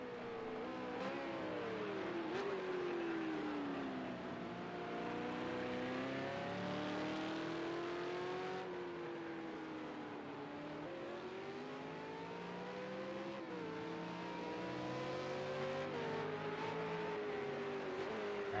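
A V8 Supercar engine in Project Cars 2 drones through a lap, its pitch rising and falling as it accelerates, shifts and brakes, a steady, fairly quiet in-car roar.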